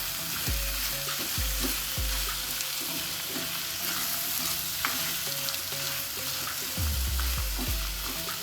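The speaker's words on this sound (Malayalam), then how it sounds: "ഇതൊന്ന് പച്ചമണം മാറുന്ന വരെ ഒന്ന് വഴറ്റിയെടുക്കാം" A buttermilk curry base with green chillies sautés in a pan: a steady soft sizzle, with low scraping stir strokes coming in a loose rhythm.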